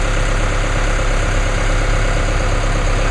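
A 2016 Chevrolet Colorado LT 4x4 crew cab's 2.8-liter four-cylinder Duramax diesel idles after a cold start, a loud, steady close-up clatter and rumble with no change in rhythm.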